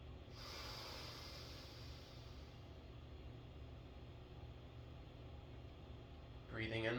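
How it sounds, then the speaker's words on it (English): Slow breathing, drawn in through the nose and let out through the mouth, sounds as a long, soft, airy hiss sustained across the moment. A louder burst of breath comes at the very end. "In through the nose, out through the mouth."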